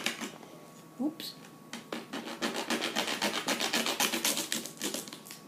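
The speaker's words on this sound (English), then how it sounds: "this is me sawing a peanut." Rhythmic rasping strokes of a small saw cutting through a hard, dry peanut, close and steady, growing denser and louder toward the end.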